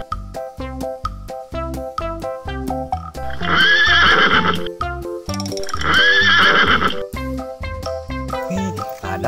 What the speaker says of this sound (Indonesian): ini sepertinya kuda delman